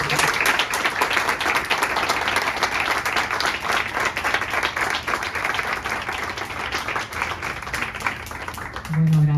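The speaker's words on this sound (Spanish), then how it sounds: "un aplauso para vosotros por estar aquí" Audience at a book presentation claps steadily, a full, dense round of applause from many hands lasting around nine seconds, fading slightly before a voice starts speaking at the end.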